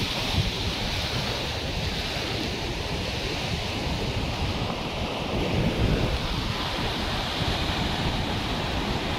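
Sea waves at Digha Mohana crash and wash steadily against boulders, a loud continuous surf roar mixed with wind buffeting the microphone.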